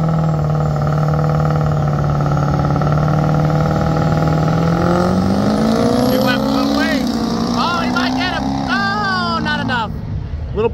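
A 1979 International Cabover truck engine revs loudly and steadily, its drone climbing in pitch partway through, with people talking over it in the later seconds.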